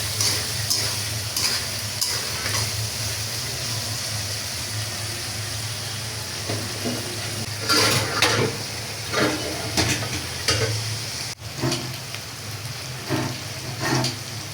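Small homegrown potatoes with turmeric frying in a pan for an aloo bhaji: a steady, close hiss with scattered crackles and a few louder sputters.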